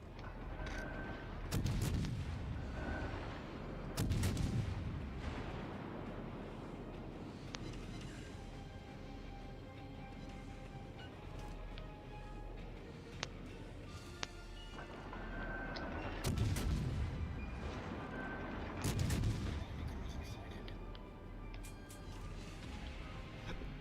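In the naval combat game World of Warships: Legends, heavy ship guns fire in several booming salvos, with deep blasts and rumbling echoes spaced out over a constant engine and sea drone, and no talking.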